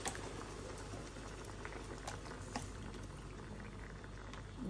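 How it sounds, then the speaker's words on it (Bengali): Coconut milk simmers with fried prawns in a pan, giving a steady close bubbling and pattering sizzle that continues evenly without any talking. "এখন এই যে কোকো মিল্কটা দিয়ে দিলাম"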